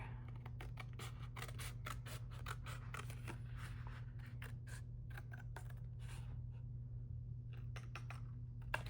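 Scissors cut through a paper bag with quick, crisp snips and crunchy rustles in a close, quiet room, an irregular run of cuts with short pauses over a low steady hum.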